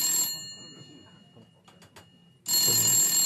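A telephone bell rings loudly during a French radio quiz show, a sustained bright ring that starts, breaks off, then resumes after a short gap, with voices faintly underneath.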